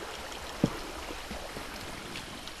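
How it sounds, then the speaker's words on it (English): Water flows steadily in the survival video game Quad Island Survival, a low continuous rushing stream sound, fairly quiet, with one brief soft knock early on and no speech. "This water is coming from way back."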